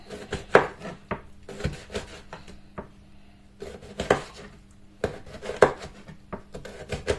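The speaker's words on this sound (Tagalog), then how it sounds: "Gigisa ko lang sa kamatis, sibuyas, bawang." Tomato, onion and garlic sizzle as they are stirred in a pan, with repeated scraping and clinking of a utensil against the pan in uneven bursts, close and fairly loud, with no talking.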